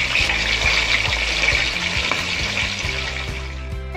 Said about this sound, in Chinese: 我们再给它煎热一下。